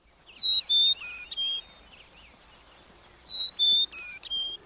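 A chickadee singing on a winter day: two clear, close phrases of bright whistled and chirping notes, each a quick run of three to four notes, separated by a quiet pause with no talk.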